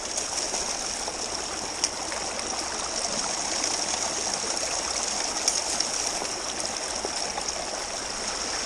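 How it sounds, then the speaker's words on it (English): Water and gravel wash steadily down a gold sluice in a continuous rushing babble with a bright hiss. Faint clicks and small knocks of stones come through near the end, and the sound stays even throughout with no talk. "You can hear all the gravels running down the body of the sluice."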